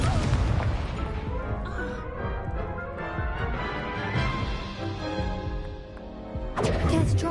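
Incendio fire spell cast in the video game Hogwarts Legacy: a loud, sustained roaring burst with booming, crackling impacts across several seconds, flaring up again near the end.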